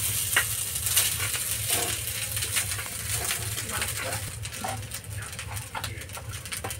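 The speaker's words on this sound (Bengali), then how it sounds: "রান্না করে রেখেছিলাম ভাতগুলো দিয়ে দিচ্ছি এর মধ্যে।" Cooked rice tipped into a frying pot of homemade biryani with meat, giving a steady close sizzle broken by soft scraping and thuds.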